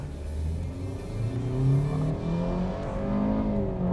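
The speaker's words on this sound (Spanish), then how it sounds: "vamos a hacer una pequeña prueba de aceleración para ver cómo se comporta este motor en modo" A Hyundai Creta engine accelerates hard in Sport mode, rising revs sweeping steadily upward as the car gathers speed, loud and continuous from inside the cabin with no talking.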